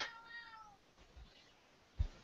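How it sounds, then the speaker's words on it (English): A house cat gives a single faint, drawn-out meow at the start, followed by quiet room tone and a soft thump near the end. "That's the cat."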